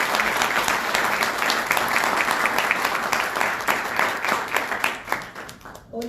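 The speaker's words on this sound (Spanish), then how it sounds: "darnos un fuerte aplauso" A university audience at an academic lecture gives loud, sustained applause, dense clapping filling the room throughout and thinning slightly near the end.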